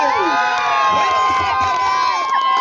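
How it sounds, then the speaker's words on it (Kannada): A crowd at a cricket trophy ceremony for the BNR Trophy cheers loudly, with overlapping high shouts and whoops close by. "ಜೋರಾದ ಚಪ್ಪಾಳೆ ಬರಬೇಕು."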